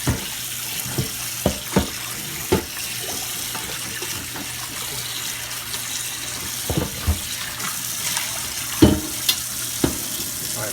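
Tap water runs steadily over a cast iron pan being rinsed in a sink, with scattered clinks and knocks of the pan against the basin, close and fairly loud.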